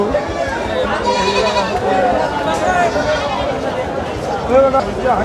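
Black Bengal kid goats bleat repeatedly at a crowded goat market in northern Bengal, their calls rising over constant loud chatter of many people nearby.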